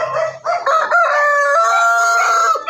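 Crossbred labuyo red junglefowl chickens, Bantex crossed with pure labuyo, crow loudly and close by, with a drawn-out crow following brief clucks.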